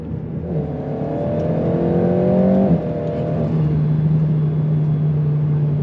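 An Alpine A110S sports car engine is heard from inside, rising under acceleration, then a gear change and a steady lower drone as it slows into a village. The engine is loud and close, with no voices.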